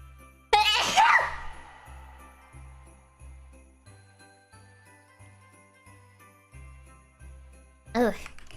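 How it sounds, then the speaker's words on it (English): A single sharp sneeze bursts out near the start, followed by a short breathy vocal burst near the end, over a steady looping background music track. "I think I have to sneeze."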